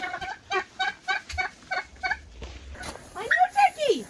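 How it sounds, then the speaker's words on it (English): Homestead turkeys give a series of short, rhythmic clucking calls, then a louder rising-and-falling gobble-like call near the end, heard close with no talk. "these turkeys are going back to their home"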